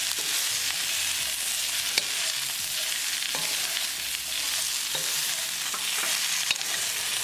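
French beans tossed with spices in a hot frying pan, a steady sizzle with scraping stirs and occasional clicks of the utensil against the pan, close and continuous with no talking.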